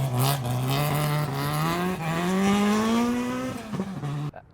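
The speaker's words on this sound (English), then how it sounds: "We're driving the Magnum Motorsport Subaru 86. It's a 6-cylinder non-turbo engine." A Subaru 86 rally car with a six-cylinder non-turbo engine revs hard and climbs in pitch through the gears, loud and close, then cuts off abruptly.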